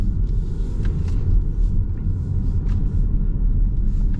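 Volvo XC60 SUV with a 2.0 turbo and supercharged engine accelerating at full throttle, a loud continuous low rumble of engine and road noise heard from inside the cabin.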